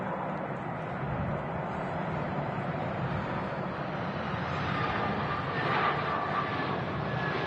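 An easyJet airliner lands at Manchester Airport, a steady broad roar of engines and rushing air held throughout at moderate distance, rising slightly toward the end.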